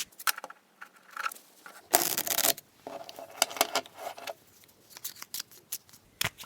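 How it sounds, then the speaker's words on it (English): A deck of tarot cards being shuffled by hand, with crisp papery riffles and a louder burst of fluttering cards midway, followed by lighter ticking card snaps, close and with no talking. "I shuffle."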